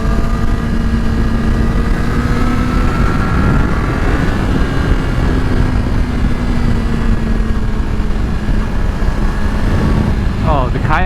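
A Yamaha R6 sport motorcycle on Dunlop Q3 Plus tires cruises along, the engine holding a steady drone under heavy, constant wind rush close to the rider, with a slight pitch rise partway through.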